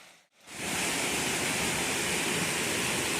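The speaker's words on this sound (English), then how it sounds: "you can tell by the noise that there's more to this waterfall" After a short quiet moment, a constant roar of falling water rises and holds, dense and even, like standing near a waterfall in a Scottish garden.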